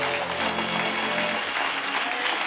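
A congregation at a church service applauds and cheers in a dense, steady wash of clapping, with a low voice or music tone underneath during the first half.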